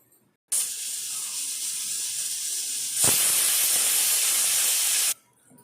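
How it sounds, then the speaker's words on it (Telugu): A pressure cooker cooking tomato dal lets off a strong steady hiss of escaping steam lasting several seconds, growing harsher partway through before cutting off abruptly, close and loud with no talk. "టమాటా పప్పు అండి 4-5 విజిల్లు వచ్చేసినాయండి."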